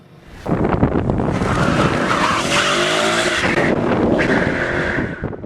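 A Ford Mustang skids hard with loud, sustained tire screech and engine roar lasting several seconds, broken by a brief crunch near the end.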